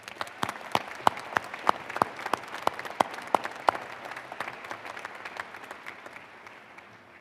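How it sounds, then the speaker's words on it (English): A small group at a university commencement claps in a sparse, uneven rhythm, individual claps clearly separated, gradually thinning out and fading toward the end. "Please give these individuals a round of applause as well."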